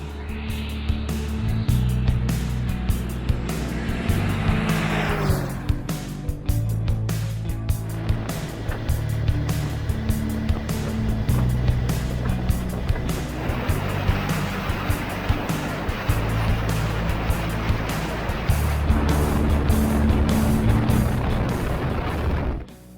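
A motorcycle fitted with a homemade automatic chain oiler rides along the road on the way to work, its engine droning steadily with shifting pitch and heavy wind rush, loud and continuous throughout.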